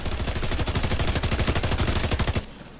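Rapid automatic gunfire from an assault rifle in the video game The Division 2, a steady stream of loud, evenly spaced shots lasting over two seconds before stopping abruptly.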